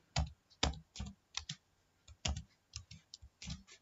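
Close computer keyboard typing as a QBASIC program is entered, a quiet, irregular run of individual key clicks and taps with short pauses between bursts.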